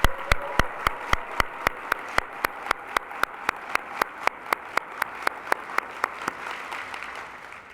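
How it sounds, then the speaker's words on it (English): Slow, evenly spaced claps, roughly three per second, ring out sharp and close over a quiet room hum at the opening ceremony of a Huntington's disease convention, with no voices over them. "Let's give them a big round of applause."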